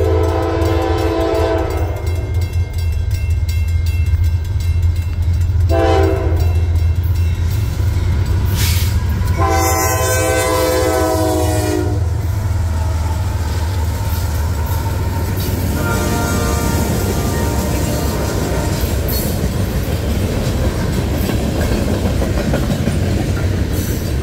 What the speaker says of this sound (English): Southbound 30T with two AC-44 C6Ms, and in the middle of the two AC-44 C6Ms was NS-8101,